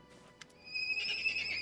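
Frightened ponies in the video game Pathfinder: Kingmaker give a faint snort, then a clear, shrill whinny that carries on for about a second, with no voices.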